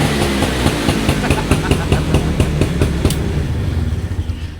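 A Yamaha Nouvo automatic motorcycle sits on its center stand while its engine is revved, giving a loud, close rumble with a rapid rhythmic pulsing that speeds into quicker beats toward the end.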